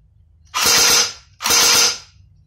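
Two close, loud bursts of rapid mechanical clatter come from a CYMA Desert Eagle airsoft pistol dry-firing on full auto with no ammunition, each burst lasting about half a second with a short pause between them.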